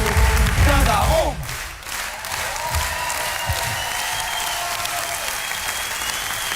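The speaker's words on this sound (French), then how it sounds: "tu veux pas remettre les applaudissements là?" Recorded applause replayed during a radio talk show, a dense burst of crowd clapping that dips briefly and then continues as a steady, fairly loud wash to the end.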